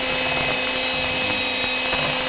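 Steady, loud rubbing hiss of 500 grit sandpaper or a sanding tool working over a headlamp lens, continuous and even with a faint tonal hum, close up.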